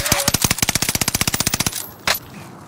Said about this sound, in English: Someone else was shooting me from up there